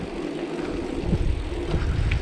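An electric bike conversion kit motor hums steadily and gradually builds as the throttle opens, with road and wind rumble underneath, close and fairly loud throughout.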